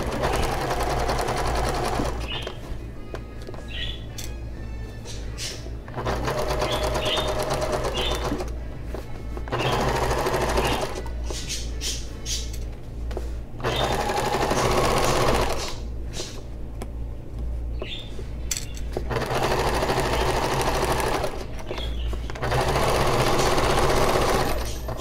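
A sewing machine stitches a seam on a Moroccan-style storage ottoman in several rapid whirring bursts, running forward and back, with short pauses between runs, close and loud.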